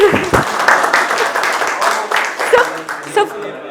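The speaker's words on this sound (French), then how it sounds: "Applaudissements, s'il vous plaît." Workshop audience applauding after an answer in a soft-skills leadership session, steady clapping with a few louder bursts and some voices and chuckles mixed in throughout.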